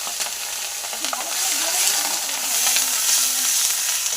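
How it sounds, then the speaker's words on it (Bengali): Garlic, ginger and onion paste sizzling in oil with panch phoron, a loud continuous frying hiss close up, with occasional stirring scrapes and pops throughout. "সব কিছু একটু ভালো করে ভাজা ভাজা করে নেবো"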